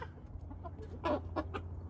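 Chickens, a suspected rooster and a definite rooster, cluck close by after being turned loose into a pen, a few short clucks over a low steady background hum.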